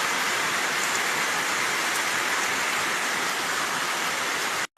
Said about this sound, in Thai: บรรยากาศสำหรับยามเที่ยงฝนก็ได้ลงมา